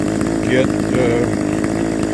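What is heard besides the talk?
two-stroke chainsaw running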